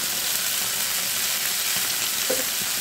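Pieces of fish fry in a pan with a steady, dense sizzle of hot oil, close and continuous, with a faint stirring or shifting sound partway through.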